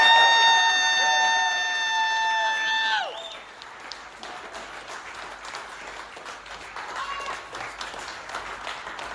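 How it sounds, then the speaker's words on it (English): Audience applause and crowd noise at an artist's reveal party in a lounge, a steady wash of clapping that rises as a sustained tonal horn-like sound cuts off, then continues evenly. "I want everybody to give a round of applause"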